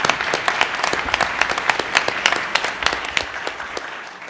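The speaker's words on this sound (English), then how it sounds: "Let's give a round of applause to our panel." An audience claps for a panel at a conference session on rethinking the internet, a dense patter of many hands in a hall holding steady for several seconds before easing off toward the end.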